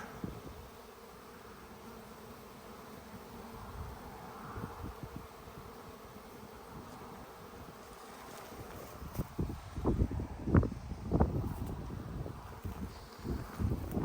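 Honeybees at a beehive in an apiary yard make a faint, continuous buzzing drone amid outdoor air and wind noise, with louder low rustles and bumps near the microphone toward the end.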